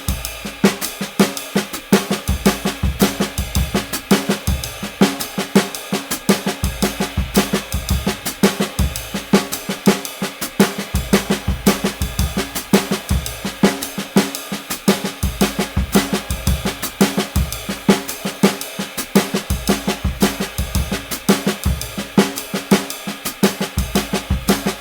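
Drum lick on a kit, hi-hat taking the bass drum's place: busy, continuous triplet-feel cymbal and snare patterns with steady rhythmic hits, loud and close, no talking.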